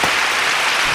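Dense, steady applause from a crowd at a digital celebration event, a continuous wash of many hands clapping loudly for about a second with no voices.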